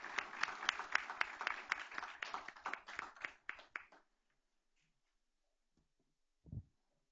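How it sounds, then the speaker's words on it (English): A room at a school board meeting claps for about four seconds, the applause thinning out and stopping, followed by near silence and one low thump. "One last round of applause."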